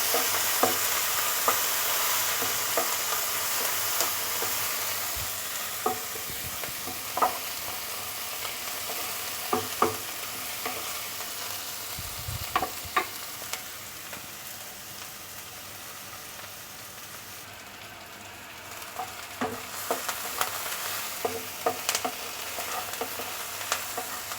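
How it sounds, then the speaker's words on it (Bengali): Chopped onions sizzle in oil in a pan on lowered heat for a spicy prawn dish, a continuous crackling fry with occasional stirring clicks and scrapes, close and fairly loud, with no talking. "পেঁয়াজটা ভাজার সময় একটু আগুনটা কমিয়ে দেবো কারণ পেঁয়াজটা একটু ভালোভাবে ভাজা হতে হবে"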